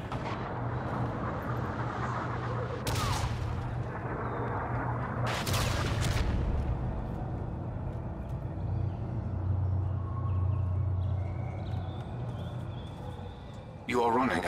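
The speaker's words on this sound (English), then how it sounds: "Friendly Trinity rocket inbound." An incoming rocket strike in a shooter video game, heard as sustained rumbling booms and blasts with a couple of sharp bursts, beneath game announcer voice lines.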